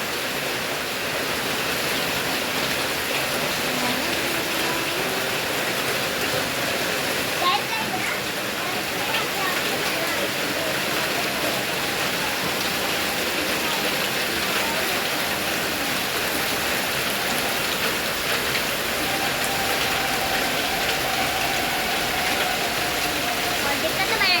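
Heavy rain in Idukki, Kerala, with flooding, pours as a steady, dense hiss of broadband noise that stays at an even loudness throughout, with no clear breaks.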